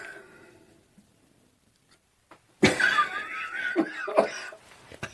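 A sudden burst of coughing mixed with laughter, close and moderately loud, following a stretch of near silence.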